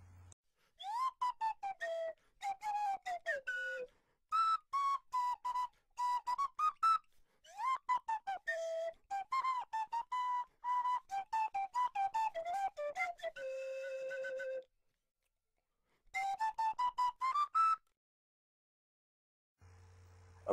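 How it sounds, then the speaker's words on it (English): A slide whistle plays a string of short, bright tones that swoop and slide in pitch, separated by brief silences, with one long held note near the end. "When thinking of pitch, consider the slide whistle."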